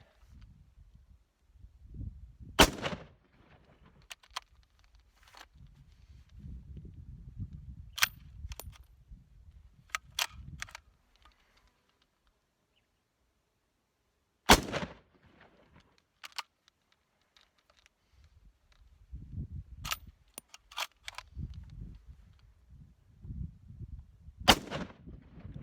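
An Enfield rifle firing after a dust test: sharp single shots spaced several seconds apart, with rustling, handling noise and gritty bolt clatter between them.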